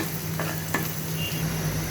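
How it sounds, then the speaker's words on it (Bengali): Shrimp and dried chillies fry in a pan with a steady close sizzle, broken by a couple of brief stirring scrapes. "এখানে কয়েকটা চিংড়ি মাছ মরিচের গুঁড়া এবং লবণ দিয়ে আমি ভালো করে ভেজে নেব"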